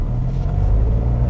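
A Dacia Jogger 1.0 ECO-G running on LPG restarts its engine through the stop-start system, giving a steady, close, low rumble of a small three-cylinder idling inside the car.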